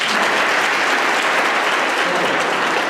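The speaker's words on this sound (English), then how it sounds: "Give them applause." A college hall audience claps in a loud, dense, continuous burst of applause heard on its own.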